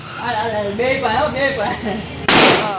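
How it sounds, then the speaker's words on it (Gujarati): A mirchi bomb firecracker explodes during Diwali celebrations, one loud, sharp bang right after a few seconds of voices. "અવાજ બહુ જોરદાર આવે છે આ મરચી બોમ્બનો અવાજ"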